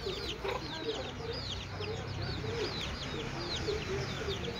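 Chickens cluck and chirp repeatedly in short, busy bursts over a constant low background rumble, fairly close but not loud.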